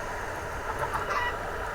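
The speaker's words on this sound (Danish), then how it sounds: "Ja, jeg fik en høne, baby." A chicken clucks in the Minecraft video game, several short soft clucks over a dense, noisy background with no talk.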